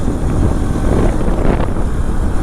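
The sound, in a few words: strong wind blowing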